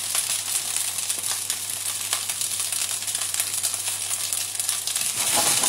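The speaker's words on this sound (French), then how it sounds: "On laisse dorer gentiment." Spaetzle browning gently in a frying pan, a soft continuous hiss and crackle of fat in the pan, close and steady without talk.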